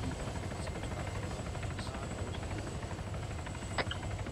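Helicopter in the military video game Arma, a steady rotor drone with a low pulsing throb running continuously at a moderate level, with no talk over it.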